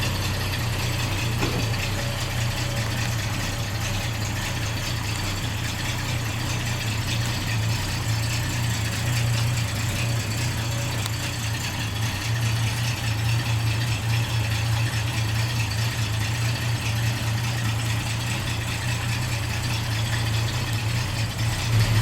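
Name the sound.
1968 Ford Mustang engine running during a test drive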